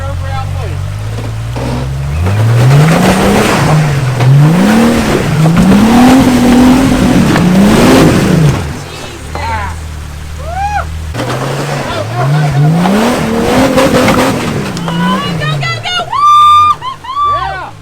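A Jeep Wrangler's engine revs hard in repeated rising and falling surges as it crawls over a rock on Bearwallow Trail, loud and close, with tires and drivetrain strain beneath.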